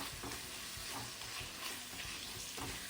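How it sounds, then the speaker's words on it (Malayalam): Chopped tomatoes sauté in a pan for paneer jalfrezi, giving a steady close sizzle with intermittent stirring scrapes. "ഇനി ഇതിലേക്ക് തക്കാളി അരിഞ്ഞത് ചേർത്ത് കൊടുക്കാം. അതും ചേർത്തിട്ട് നന്നായിട്ടത് വഴറ്റിയെടുക്കുക."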